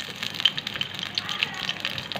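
Onions fry in a couple of spoons of oil in a pan, giving a soft, close sizzle with scattered light pops and crackles throughout.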